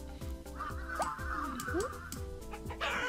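Chicken clucking in the video game Montaro, a rhythmic run of repeated squawky clucks and honk-like calls over a steady game background, loud and continuous.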